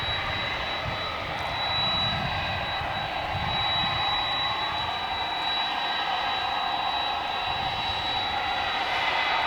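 Jet airliner engine roar at Dallas/Fort Worth airport at night, a steady, loud broadband rumble with a constant high whine holding through, no talk.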